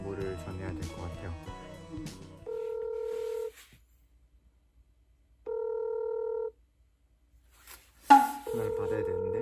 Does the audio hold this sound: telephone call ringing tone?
yes